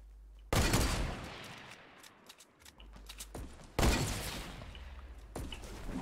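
Sharp gunshots in Fortnite Battle Royale, two loud cracks followed by decaying echoes and scattered quieter shots at middle distance.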